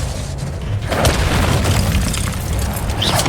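Expulso explosion spell in a Harry Potter video game, a loud, sustained booming blast with crackling debris that fills the whole moment, with no talk.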